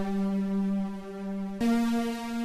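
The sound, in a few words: Mercury 80 synthesizer power synth chord with long decay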